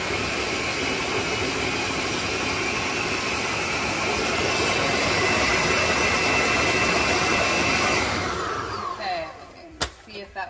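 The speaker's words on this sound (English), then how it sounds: "Bear with me while I blend this salt." A kitchen blender whirs steadily at high speed through homemade salsa for about eight seconds, loud and constant, then winds down and stops, followed by a few clunks.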